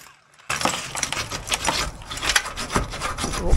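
Sawzall reciprocating saw blade cutting into a wall cavity in a garage conversion: rough, rasping strokes in quick succession, close and loud, starting abruptly after a short quiet moment and continuing without talk.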